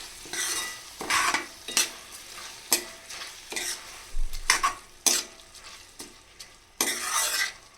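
A spoon stirs washed basmati rice for a raw chickpea biryani in a pot. It makes a series of close, rhythmic scraping and rustling strokes, each followed by a faint sizzle.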